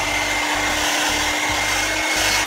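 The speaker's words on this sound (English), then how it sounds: "Use your hair dryer and then work it through, just kind of straighten it out" A hair dryer blows steadily at close range while drying and straightening a beard, giving a loud continuous whoosh with a low motor hum that pulses slightly as it is moved.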